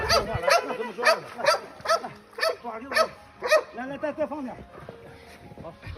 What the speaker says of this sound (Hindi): ये कुत्ता पतली बर्फ पर चढ़ने की पूरी कोशिश कर रहा था